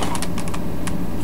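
Keys clack on a cheap $15 LED computer keyboard in a loud, close burst of irregular sharp taps, followed by a single later keystroke over steady background noise.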